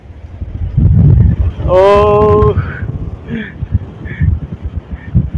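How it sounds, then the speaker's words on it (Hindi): Strong wind at Ajman Beach in the UAE buffets the microphone with low rumbling gusts throughout, while a voice calls out briefly and talking continues over the blustery noise. "और हवा की बहुत तेज़ हो रही है गाइस"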